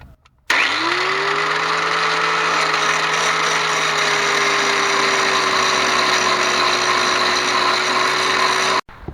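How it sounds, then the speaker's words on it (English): On a Ford Explorer, a power cutter cuts the lower end off a front sway bar bolt, giving a loud, steady high whine that holds a constant pitch for about eight seconds, then stops abruptly. "here I can bring my cutter here and cut off the bottom part"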